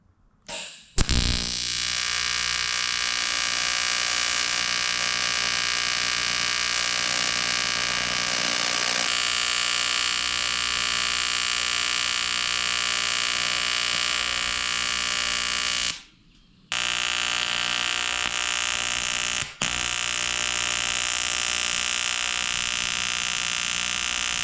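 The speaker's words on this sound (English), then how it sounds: "And I've cut caps. And we'll go ahead and weld." Welding caps onto the metal frame of a pop-up camper build, giving a loud, steady electric buzz that runs for over twenty seconds and stops only in two brief pauses.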